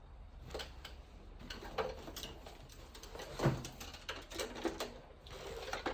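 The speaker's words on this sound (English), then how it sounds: "And then I'm going to do a little bit of sewing." Sewing straight basic stitches on a craft project filled with sequins, a quiet ticking, tapping mechanical patter running in short bursts throughout, with no talking.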